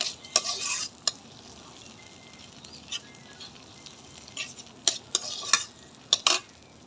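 Chapa shutki, dried bamboo-leaf fish, frying in oil with vegetable stems in a pan, heard as a soft continuous sizzle broken by several sharp scraping stirs of a utensil.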